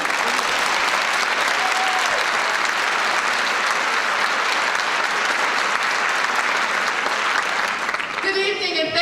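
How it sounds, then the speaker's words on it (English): A large crowd at an evening community event with local TV hosts applauds: steady, dense, loud clapping that fills the room without a break for nearly nine seconds. "Give yourselves a round of applause for being here tonight"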